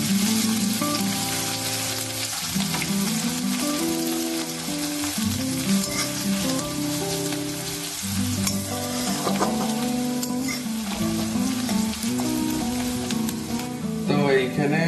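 Chopped onion hitting hot oil with whole cumin seeds, a loud continuous sizzle and crackle with stirring scrapes throughout, close by and without talk.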